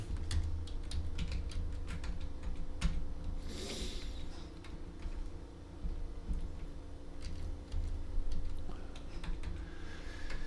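Fast typing on a computer keyboard, with a dense run of close, crisp key clicks over a steady background hum and no talking.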